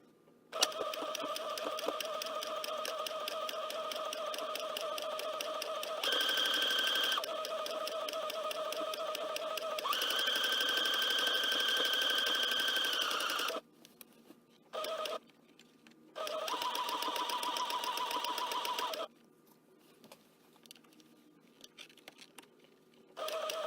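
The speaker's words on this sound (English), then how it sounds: "I'm just going to be using a straight stitch with the closest matching thread that I could find" A sewing machine runs a straight stitch on an upcycled sweater, its fast mechanical whir coming in several bursts of varying length separated by short pauses and small clicks.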